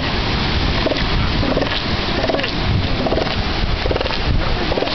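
Elephant seals call with low, rough roaring bellows as they jostle and fight, repeated throughout over steady wind noise outdoors.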